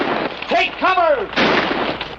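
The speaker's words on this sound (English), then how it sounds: "Who's shooting at him?" Gunfire rings out in a Western television episode, several sharp shots with ricocheting whines among them, close and loud, with voices shouting between the shots.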